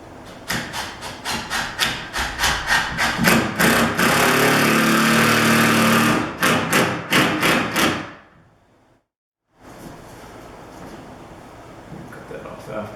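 Screws driven into an interior door frame with a power drill, a rapid series of close, loud whirring bursts building to a long sustained run, then more short pulses before a drop to near silence.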